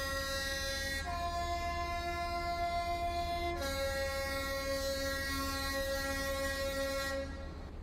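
Intercity train horn in Transport Fever 2, a loud sustained two-tone blast that shifts pitch partway and holds steadily for several seconds over a constant rumble, then cuts off abruptly.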